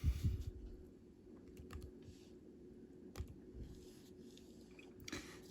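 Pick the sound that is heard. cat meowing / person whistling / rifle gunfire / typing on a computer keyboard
typing on a computer keyboard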